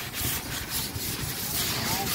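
Sandpaper rubbing on a galvanized iron gutter sheet, a loud, close, raspy scraping in repeated back-and-forth strokes that continues without pause.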